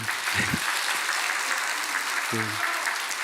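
Steady applause from a church congregation fills the whole stretch, with a couple of brief low voice fragments poking through near the start and middle.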